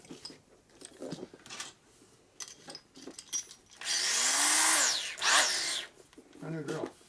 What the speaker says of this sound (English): Brand new drill.